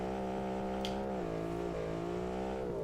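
Race car pulling off the starting line at a Baja off-road showcase event: a steady, droning engine tone that holds and shifts slightly in pitch, continuous and moderately loud with no talking.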